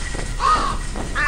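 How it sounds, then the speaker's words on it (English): Crows caw in the video game Thirty Flights of Loving, two or three short harsh calls spaced across a brief stretch over a steady game ambience, moderately close and clear with no talking. "I hear crows. Yep, there's some crows."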